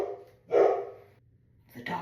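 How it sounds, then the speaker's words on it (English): A dog barks close by, first a gruff bark and then another that breaks off after a short pause. The room is otherwise quiet. "The dog is barking."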